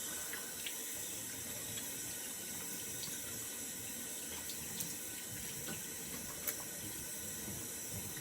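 Tap water runs steadily into a sink while someone rinses off after a shave, a close, even hiss with small splashes and no talking.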